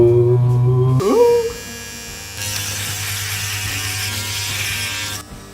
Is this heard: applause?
no